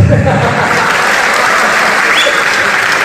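Steady, loud audience applause fills a talk or lecture hall after a speaker's joke about C grades, dense clapping holding evenly throughout with a faint voice briefly audible over it.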